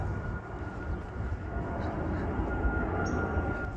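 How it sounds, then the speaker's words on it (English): A high-flying airplane passing overhead outdoors, a broad distant rumbling roar that stays steady and fairly loud throughout without voices. "Ain't that a high airplane?"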